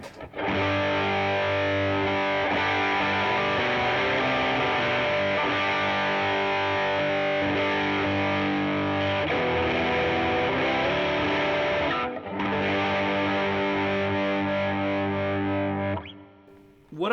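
A heavily distorted electric guitar through a 1981 Inventions DRV pedal plays thick, sustained chords with a brief gap near the end, loud and saturated throughout.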